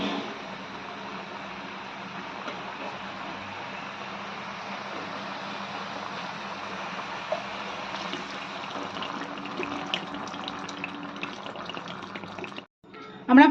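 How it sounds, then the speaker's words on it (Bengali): Water is poured into chickpea and minced mutton curry in a pan, a soft continuous watery rush and bubbling, fairly quiet, ending with a brief clatter. "এবার এতে আমরা পরিমাণ মতন জল অ্যাড করে দেবো।"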